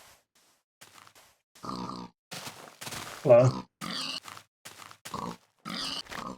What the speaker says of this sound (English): Yo, that's a lot of pigs.